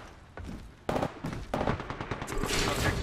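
Gunfire in a video game, aimed at a spotted target: scattered sharp shots building into rapid bursts, fairly close and growing denser toward the end.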